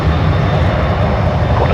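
Airliner taking off from runway 19 left at Brisbane Airport, a loud, steady engine roar that fills the whole stretch without letting up and with no voices over it.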